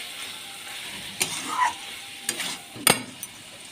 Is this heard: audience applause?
no